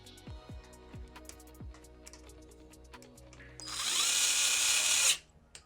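A power drill runs in one loud, close, high whirring burst lasting about a second and a half as a screw goes into a PC case. Light clicks and handling knocks come before it, with no voices.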